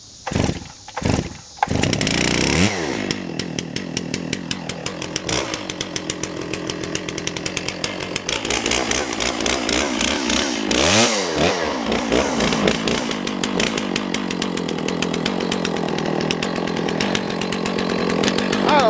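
An old 660 chainsaw is pulled and started, then revs loud and close, bogging and rising while cutting firewood rounds in a long steady run.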